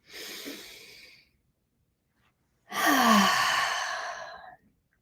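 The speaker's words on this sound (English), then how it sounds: "So taking a conscious, nourishing breath." A slow, deep breath: a soft, airy inhale, a pause of near silence, then a longer, louder sighing exhale, heard close and alone in a quiet room.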